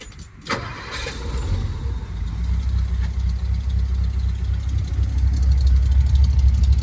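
A 1960 Edsel fitted with dual exhaust and glass pack mufflers cranks and catches near the start, then settles into a loud, steady, rumbling idle that holds close and continuous to the end.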